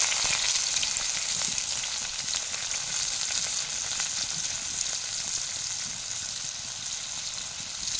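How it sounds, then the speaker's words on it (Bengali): Chopped onions fry in hot oil in a pan for eggplant do-pyaza, a steady, bright, hissing sizzle that stays even and continuous throughout, with no voices. "একই তেলের মধ্যে কিছুটা আরো তেল দিয়ে দিয়েছি, তেলটা গরম হয়ে গেছে। কেটে রাখা পেঁয়াজগুলো দিয়ে দেব।"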